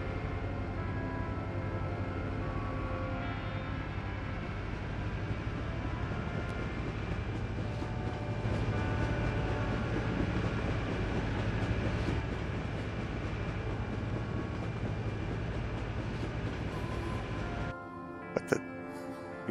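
A passenger train rolls along the rails in the city-building game SimCity 4, a steady dense rumble with clickety-clack texture that holds throughout, then cuts off near the end to a brief quieter stretch with a couple of clicks.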